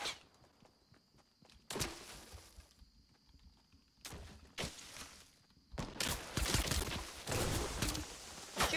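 Gunfire in the video game Fortnite, scattered bursts of shots and impacts at moderate level, denser toward the end, with quieter footsteps and game sounds between them.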